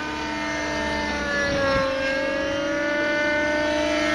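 A 600-size glow-engine RC helicopter flies at a club meet, its engine struggling for power. A steady, tonal engine whine with overlapping harmonics holds throughout, swelling slightly midway, with no voices over it.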